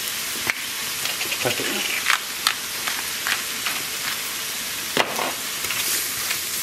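Meat frying in a pan for Samogitian meat-filled potato pancakes, a steady close sizzle with sharp crackles and pops scattered throughout, while a person talks over it.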